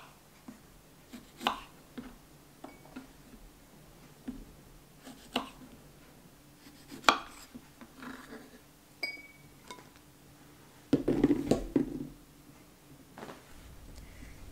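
A knife trimming the ends off washed kumquats on a cutting board, giving a series of sharp, separate taps and clicks spaced irregularly, close and fairly quiet, with a busier cluster of cutting sounds near the end.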